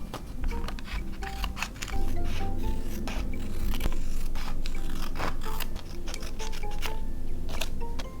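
Scissors snip through yellow paper in quick, close, repeated cuts with papery rustling in between, during scrapbook journaling.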